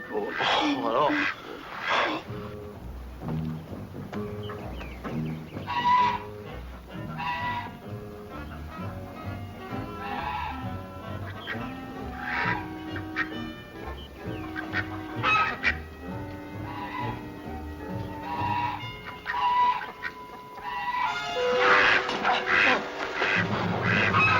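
A goose honks repeatedly and loudly close by in a wartime drama scene, with harsh overlapping honks and squawks running throughout, mixed with people talking and some commotion.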